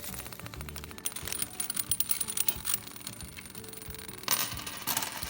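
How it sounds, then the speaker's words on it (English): Quarters resting on dry ice vibrate and rattle, giving rapid metallic chattering and buzzing close by that runs continuously, with a sharper, louder burst near the end. "this is really just wild how these quarters are shaking like this"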